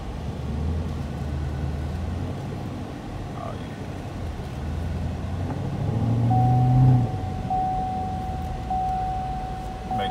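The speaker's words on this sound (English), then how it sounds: "Go for a test drive in this 2016 Camaro SS." Supercharged 2016 Chevrolet Camaro SS on a test drive, a low steady engine drone with road noise heard from inside, swelling slightly midway with a rising whine, no talking.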